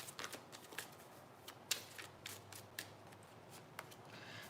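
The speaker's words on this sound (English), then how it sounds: "Let me mix these cards up." Tarot cards being shuffled by hand, a quiet series of crisp riffling slaps and papery flicks in irregular bursts, close up with no talking.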